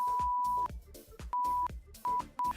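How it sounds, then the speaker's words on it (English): Four steady, high-pitched censor beeps from a stream's bleep button sound in quick succession, each loud and flat-toned, with brief gaps and some faint background noise between them. "Does the beep actually work?"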